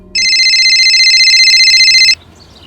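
A telephone rings in one long continuous electronic trill, loud and close, lasting about two seconds before cutting off into quiet room tone.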